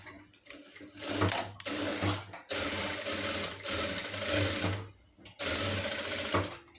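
A sewing machine stitches a homemade two-layer cloth face mask in several short, close bursts separated by brief pauses, with a low mechanical hum and rapid needle clatter.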